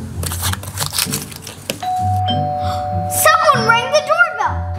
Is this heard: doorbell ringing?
yes